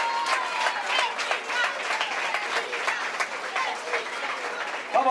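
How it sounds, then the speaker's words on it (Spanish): A crowd at a hip hop rap battle claps and cheers in a dense, continuous burst of applause with shouting mixed in, loud and close throughout. "¡Aplauso grande!"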